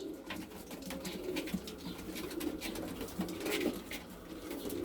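Roller pigeons coo together, a low, soft burbling of several birds with repeated coos and faint wing and cage noises, no speech.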